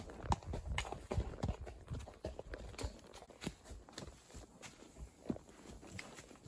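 A horse's hooves clip-clop steadily along an outdoor trail beside a road during a ride, a faint, irregular patter of soft thuds with some scuffing and no talking.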